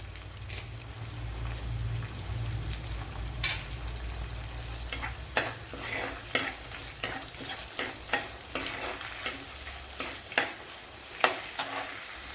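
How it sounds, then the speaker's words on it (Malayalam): Curry leaves crackling in hot oil for a horse mackerel fish curry: a steady close sizzle broken by many sharp popping spits spread across the clip, with no talking. "അതുപോലെ കറി ലീവ്സ് ഇട്ട് കൊടുക്കാം."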